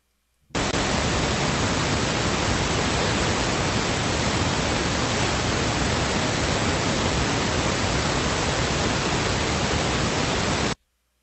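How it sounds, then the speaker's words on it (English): Steady pink noise, a deep, even hiss like a soft roar, starts abruptly, holds at constant loudness for about ten seconds, then stops sharply. "Now, pink noise is the sound that I gravitate to."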